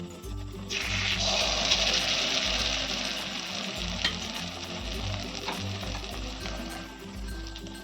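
Pointed gourd frying in a pan over very low gas, giving a steady, moderately loud sizzle that starts after a quiet moment and runs continuously, with a low steady hum underneath.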